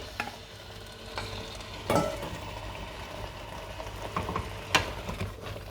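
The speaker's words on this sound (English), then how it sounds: "So we're going to add the lamb pieces to it now" Lamb pieces hit a pan of spinach and fry with a soft, steady sizzle. A spoon scrapes and clatters against the pan now and then as the mixture is stirred.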